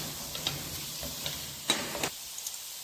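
Green peas tipped into a pan of frying cauliflower and mixed vegetables, with soft sizzling and a few scattered clicks and stirring taps, fairly quiet and close.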